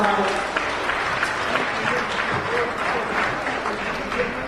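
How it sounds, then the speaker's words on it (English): At an Independence Day dinner and awards evening for Ghana's 68th, a roomful of guests applauds the children with loud, continuous clapping mixed with crowd murmur and voices. "Let's give them another round of applause."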